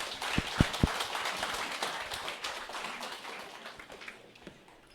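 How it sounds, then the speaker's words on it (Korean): A crowd at an evening dinner gathering applauds to welcome a speaker to the stage, a few sharp claps at the start giving way to dense, steady applause that fades slightly toward the end. "이정혜 샤로노즈 마스터님을 큰 박수로 모시겠습니다."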